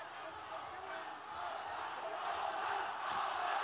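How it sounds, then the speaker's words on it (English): Roaring stadium crowd at a ONE Championship mixed martial arts fight, a broad sustained wash of cheering that swells slightly, with a commentator's voice over it. "Crowd making rapturous noise here at the Tuana Stadium"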